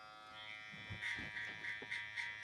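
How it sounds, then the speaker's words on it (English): A Babyliss electric hair clipper with a #1 guard runs with a steady high buzz during a haircut, its tone shifting in short bursts as it cuts through hair, close and faint, with no talk. "now we're gonna use the Babyliss #1 guard"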